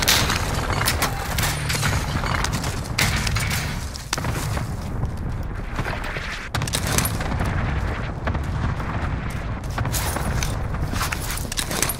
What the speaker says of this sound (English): I want airstrike fire here. Got your request. Cluster strike is active.